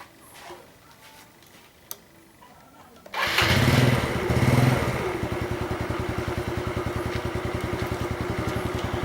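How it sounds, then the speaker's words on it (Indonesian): A gasoline motorcycle engine starts after a few seconds of quiet background with a single click, revving briefly twice before settling into a steady, close idle that runs to the end. "udah itu kita hidupkan kembali motornya"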